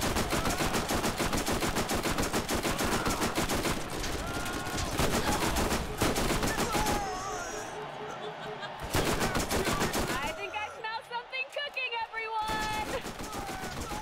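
Rapid automatic gunfire and sharp shots in a Borderlands arena gun wave, loud and near, in dense bursts with brief lulls and game effects between.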